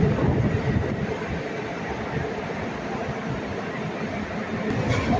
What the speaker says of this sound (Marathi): मी मुद्दामून हे ही मेट्रो चाललेली आहे